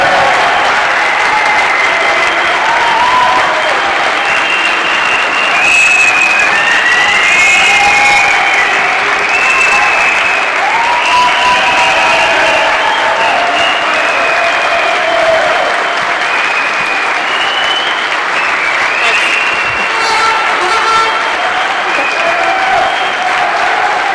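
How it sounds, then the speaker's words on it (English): A large rally audience in a hall gives Stella Assange sustained, loud applause that runs unbroken for the whole stretch. Some cheering and whistles rise within it. "give a lot of love and an extra big round of applause"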